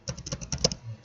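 Ctrl+Home pressed on a computer keyboard while working in an Excel worksheet gives a quick cluster of soft plastic key clicks, close and quiet with no talk.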